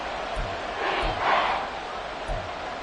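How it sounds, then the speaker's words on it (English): A football stadium crowd roars loudly in a sustained wash of cheering and noise, swelling briefly in the middle, with a low rhythmic thumping underneath. "this crowd doing their best to make a lot of racket"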